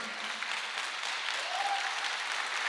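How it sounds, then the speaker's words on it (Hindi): Steady, even applause from a seminar audience fills the room at moderate volume throughout, with no voices breaking through. "आप तालियां कम बजा रहे हो"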